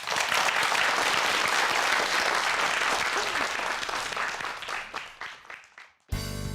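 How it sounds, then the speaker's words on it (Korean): Studio audience applauding at the close of a televised lecture on electronic nose technology, a dense sustained burst of clapping that fades out over several seconds, then cuts to a different sound. "좋은 강연해 주신 우리 이종골 대표님 큰 박수 부탁드릴게요"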